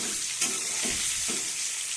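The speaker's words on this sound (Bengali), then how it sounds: "আর এইদিকে আমি ডিমটা ভাজা শুরু করে দিয়েছি।" Eggs sizzle steadily in a hot pan, with a few soft scraping stirs breaking through the crackle.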